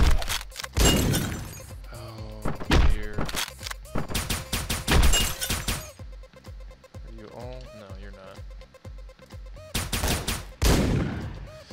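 Shotgun blasts from the top-down video game Hotline Miami, several loud bursty game gunshots with shattering and breaking noises, spread across the clip with quieter gaps between the clusters.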